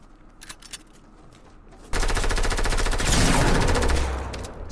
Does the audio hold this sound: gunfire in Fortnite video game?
yes